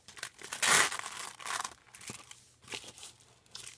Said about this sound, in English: the packaging is, it's going to sound louder on camera as always, but it's pretty loud actually